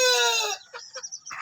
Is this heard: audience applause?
no